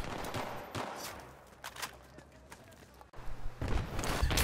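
An AEK assault rifle in Battlefield 3 fires in rapid bursts with a high rate of fire, the quick cracking shots fairly close, separated by short pauses.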